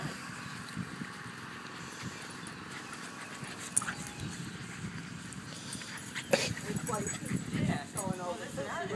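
Dogs playing indoors, with scattered yips, scuffling and brief whimpers under the steady conversation of several people nearby; a louder burst of playful noise comes toward the end.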